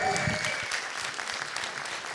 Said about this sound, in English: let's give Earl a round of applause